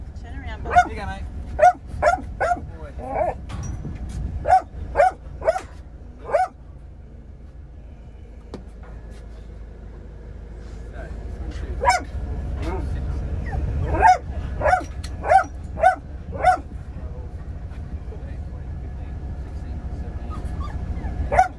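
A large pack of shelter dogs, pit bulls and American bulldogs among them, barking in clusters of sharp yips and whimpers, near and loud, over background speech and a low rumble.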